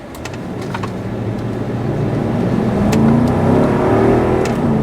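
A 2015 Lexus LX570 SUV pulls away from inside the cabin, a low engine drone and road rumble building gradually in loudness over a few seconds.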